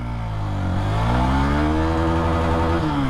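Hero Xpulse 200T 4V 2023 motorcycle pulling hard in first gear, the engine note rising steadily in pitch as it revs, close and loud throughout.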